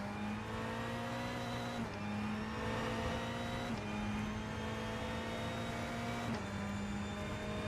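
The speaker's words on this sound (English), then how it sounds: "Sounds like a proper GTE indeed." Engine of a Ferrari 488 GTE race car in the rFactor 2 racing game at Sebring, a steady high-revving drone with abrupt pitch drops at each gear change, loud and continuous with no talk.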